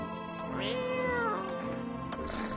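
A cat meows in the video game No, I'm Not A Human: one long, drawn-out meow that rises and falls, then a shorter call, close and clear over a steady hum of game ambience, with no talking.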